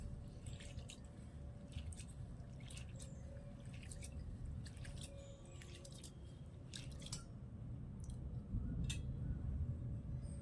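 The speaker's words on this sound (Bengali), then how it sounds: "এবারে জল পাল্টে পাল্টে বেশ কয়েকবারের মতন চিড়ে ধুয়ে নিতে হবে।" Flattened rice (chira) being washed by hand in a bowl of water, with soft wet squelching, dripping and sloshing, scattered small splashes, close and fairly quiet, no talk.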